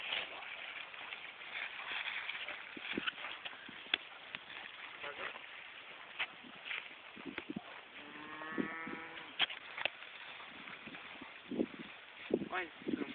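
Cows in a field low and moo faintly at a distance, a drawn-out call rising midway through, while people talk quietly nearby over outdoor background noise.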